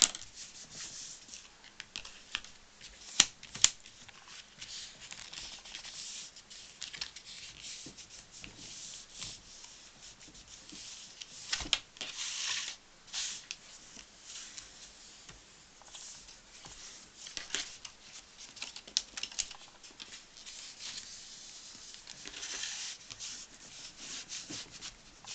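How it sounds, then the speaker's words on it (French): Paper rubbed firmly to crease the folds of a handmade chequebook cover, a soft continuous scraping with repeated strokes, close and fairly quiet throughout. "Maintenant, on va marquer les plis."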